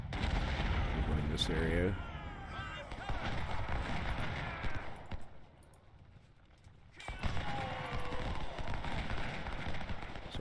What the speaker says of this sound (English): They're taking a lot of artillery fire, though.